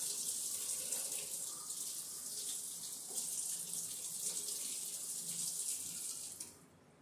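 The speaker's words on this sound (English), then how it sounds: "Rinse it off with hot water." Hot tap water gushes steadily into a sink to rinse off a hydrometer, a continuous hissing splash close by that cuts off near the end.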